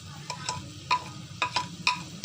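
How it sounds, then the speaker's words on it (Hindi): Chicken being stirred with soy sauce and ground red chili in a pan, a spoon scraping and knocking against the metal in about six sharp strokes over a faint steady sizzle. "और इसे अच्छे से मिक्स कर लेंगे।"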